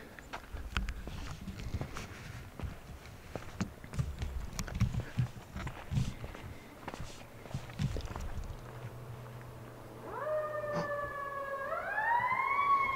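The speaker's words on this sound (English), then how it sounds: "Okay, that's a fire truck." A fire truck siren rises from the distance late in the clip, swelling into a loud, wailing tone with layered harmonics over an outdoor night backdrop of footsteps and rustling near a campsite on an island.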